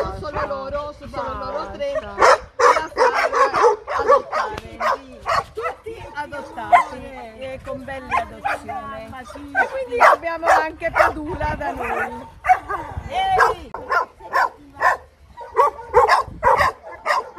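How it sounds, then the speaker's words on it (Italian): Rescued mother dogs and their puppies bark and yip again and again in loud, rapid bursts, with whimpers and voices talking among them. "Questi sono i cani di Padula."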